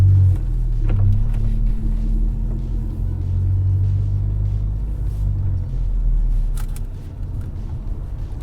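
A Mk7 Golf with an IS20 turbo pulls away onto the road, a loud, close engine rumble rising and holding through the run and then easing off near the end.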